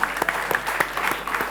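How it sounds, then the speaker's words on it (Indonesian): Audience applause for the jury at a high-school quick-answer quiz contest, a steady patter of many hands clapping at moderate distance for about a second and a half, with no talk over it. "Tepuk Baik. tangan buat Dewan Juri"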